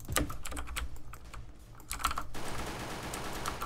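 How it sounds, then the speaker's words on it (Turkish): Rapid computer keyboard typing during a Roblox shooter game session, a steady close clatter of keystrokes running throughout, heavier in the second half, with no talking. "Bu arada klavye sesi çok geliyor olabilir."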